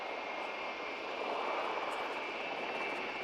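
An Osprey CV-22B tiltrotor aircraft at an air display roars steadily at a distance as it converts to vertical landing mode, a broad engine and rotor rush with a faint high whine and no talk.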